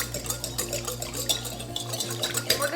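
A whisk clatters rapidly and steadily against a bowl, mixing a mayonnaise and soy sauce slaw dressing, close up and alone.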